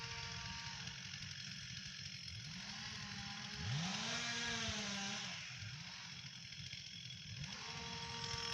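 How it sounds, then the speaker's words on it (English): A chainsaw runs steadily at a restoration work site at Clipstone Old Quarter, a continuous mechanical buzz with rising and falling pitch sweeps as it revs under load, fairly distant and unbroken with no talk. "I hate the sound of chainsaws"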